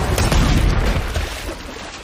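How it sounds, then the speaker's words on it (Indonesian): A grenade explodes in a loud, deep boom with a rumbling blast that slowly fades over two seconds, with no voices. "sebuah granat terlempar ke arah mereka dan meledak"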